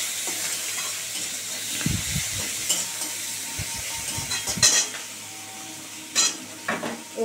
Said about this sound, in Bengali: একটু পেঁয়াজটা ভাজা ভাজা হয়ে যাক, তারপরে আদা রসুনটা দেবো।